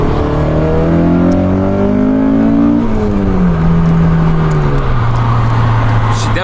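An 8th-gen Honda Civic Si with an AEM short ram intake revs hard, loud and close, its engine note climbing through a VTEC crossover and then easing down, with intake induction roar throughout.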